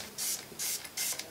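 Liquid glass cleaner is sprayed onto a tissue in a bathroom, three crisp close hissing bursts from a pump spray bottle separated by short pauses.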